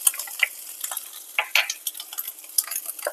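Cumin seeds and dried red chillies fry in hot oil, giving a continuous close crackling sizzle with sharp pops and occasional stirring scrapes throughout.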